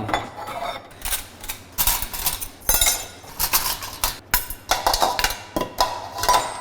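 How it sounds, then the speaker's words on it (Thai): Cutlery is loaded into a Dreame Z2000 smart dishwasher: a brisk run of metallic clinks and rattles, close and irregular, with no talking. "ช้อนส้อมผมใส่ครบหมด"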